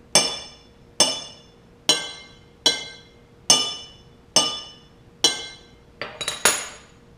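Glass bottles holding different water levels, struck as a homemade instrument: a steady series of about nine bright ringing clinks at near one-second intervals, each decaying smoothly, with a quicker cluster of strikes near the end.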